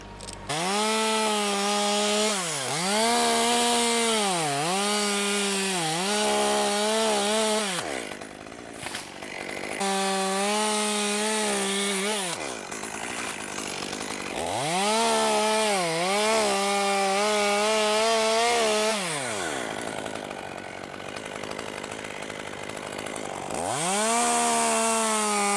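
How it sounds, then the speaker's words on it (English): Chainsaw cutting through a big oak during lakeside tree removal, close and loud, the engine revving in long sustained bursts that rise and dip with load, with brief pauses between cuts. "Really have to keep your saw moving on this oak."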